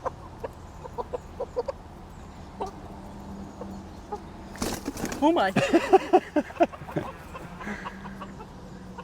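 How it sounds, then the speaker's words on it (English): Chickens clucking in a bunch, with a cluster of louder bird calls near the middle of the clip amid scattered quieter clucks and rustling, while a person speaks briefly. "Bunch of chickens."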